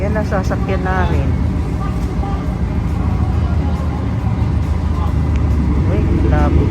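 The travellers' vehicle gives off a constant engine rumble and road noise, steady and fairly loud, while people talk over it throughout.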